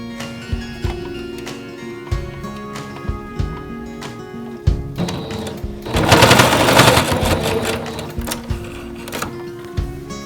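A sewing machine stitches down the pleats of a cotton face mask in short clattering bursts, then runs in one longer, louder continuous burst before returning to brief start-stop stitching.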